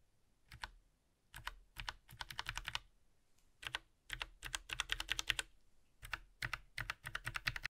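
Bursts of typing on a Logitech mechanical mini keyboard, quick clacky keystrokes in short runs separated by pauses, close and fairly quiet with no talking.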